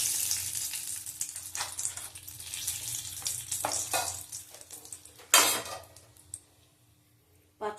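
Bay leaves frying in hot oil for a katla fish curry, a light crackling sizzle with utensil clinks and a sharp burst of spitting near the middle, fading quieter toward the end.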